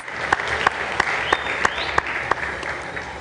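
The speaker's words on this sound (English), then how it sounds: "A round of applause for Hussein as he leaves the panel, please." A panel audience at a citizens' assembly gives applause as a speaker leaves, heard as sharp, evenly spaced claps that stand out above a softer, continuous wash of clapping.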